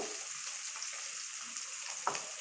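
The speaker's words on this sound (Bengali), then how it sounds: "দেখুন মাছ ভাজা হয়ে গেছে" Hilsa fish frying in oil, a quiet, even sizzle with a faint clatter near the end and no talking.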